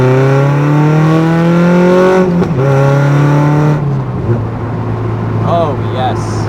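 An NC Miata with a modified exhaust revs loudly, engine note climbing and holding before dropping back to a throaty idle, with a brief voice near the end.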